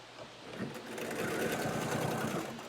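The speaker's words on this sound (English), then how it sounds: "So I'm going to backstitch and then sew and then backstitch again." Sewing machine stitching a fabric face mask, a rapid close whirring run that swells in the middle and eases off over about three seconds.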